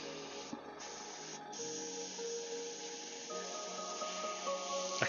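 A miniature-painting airbrush with a clogged nozzle hisses steadily as it sprays, with a couple of faint sputters early on before the airflow settles into an even, close hiss.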